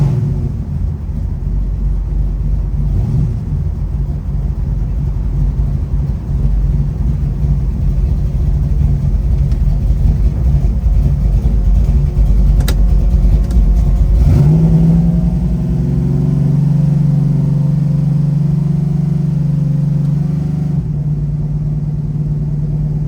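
A 1971 Chevrolet Chevelle with a 572 engine rumbles loudly on the street, revving and accelerating hard, then settling into a steady, deep drone as it cruises.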